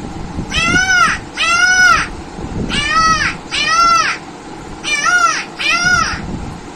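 A voice mimics a peacock's call, loud nasal wails in three pairs with short pauses between, close and clear over faint background noise.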